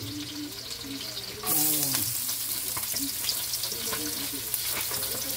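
Food frying in a pan for sarsyadong matang baka, a loud sizzle swelling suddenly partway through and crackling steadily, with someone speaking softly under it.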